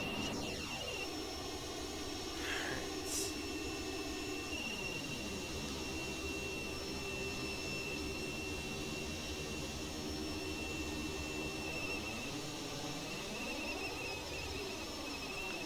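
American Airlines MD-80 jet engines roar steadily through the takeoff roll, a continuous loud whine and rumble with rising and falling tones, heard from inside the cabin with no talking.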